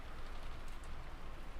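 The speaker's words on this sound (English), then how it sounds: "disappeared beneath the sound of the rain" Steady rain falling in the Umineko visual novel, a constant close hiss of drops filling the whole moment without pause or voices.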